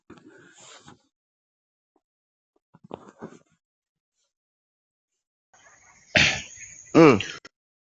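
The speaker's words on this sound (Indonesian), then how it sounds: "Batuk." A few short coughs and throat-clearing sounds, the loudest pair near the end, close and isolated against silence.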